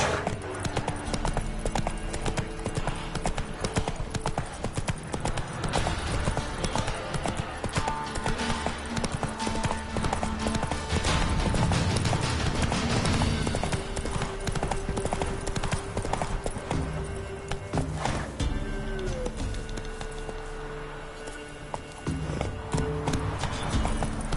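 Roach, a horse in The Witcher 3, galloping with fast, steady hoofbeats throughout, under game music and occasional voices.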